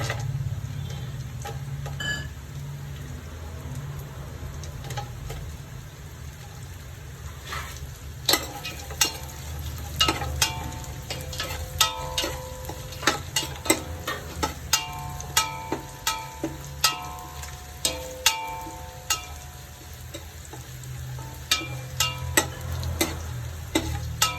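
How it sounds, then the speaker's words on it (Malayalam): Cashew nuts frying in ghee in a pan for ghee rice, a low steady sizzle with scattered light ticks and pops growing busier toward the end. "കുറച്ച് അണ്ടിപ്പരിപ്പ് ചേർത്ത് കൊടുക്കാം"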